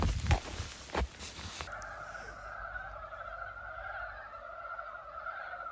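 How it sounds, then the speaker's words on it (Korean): After a few rustles and knocks, a steady, droning frog call rises and holds, trilling continuously at a moderate distance on a snowy Jirisan mountain trail. "이게 개구리 소리래요."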